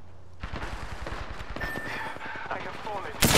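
Rapid automatic gunfire crackles in bursts during an Apex Legends firefight, close and loud, with a sharp final blast at the end and a voice speaking over it.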